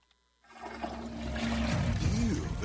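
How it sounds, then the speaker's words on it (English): A toilet flushes with a sudden loud rush of water that starts after a short quiet moment and keeps roaring and swirling steadily, close and alone. "Every flush spews bacteria onto surfaces that little Bobby touches"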